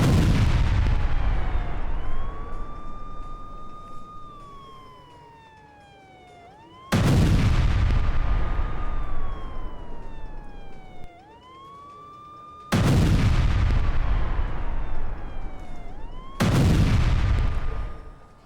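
Rising and falling sirens wail through a missile, bomb and drone attack, punctuated by several loud, sudden booms of artillery fire and explosions that cut in sharply and then fade under the continuing howl.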